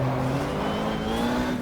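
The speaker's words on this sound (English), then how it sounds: "We're doing a double stint anyway as we see one of the Camaros go around with cold tyres" Race car in the GTR2 racing game pulling out of the pits at a 1995 Daytona 24 Hour race, its engine droning loud and steady with rising tones as it accelerates, with no talk.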